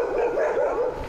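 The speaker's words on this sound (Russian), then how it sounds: "А еще под этими плитами обитает свора бездомных псов." A pack of stray dogs living under concrete slabs barks, short repeated yelping calls overlapping in a steady, fairly close run with no talk over them.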